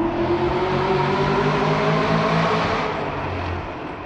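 A manual Chevrolet Camaro ZL1 1LE runs with a steady engine drone heard from nearby, holding an even tone before easing off slightly near the end, with no talking.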